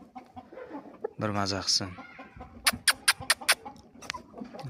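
A rooster of a fast-fattening breed, just let outside after a long spell indoors, gives a short run of sharp clucks and calls close by, with a person talking before them.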